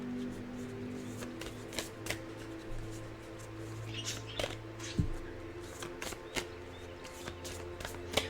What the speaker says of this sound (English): let's pull the next card from the Quantum Oracle